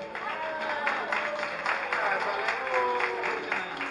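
Party guests applaud a little girl at a celebration, a steady wash of clapping from a small crowd with voices and chatter mixed in throughout.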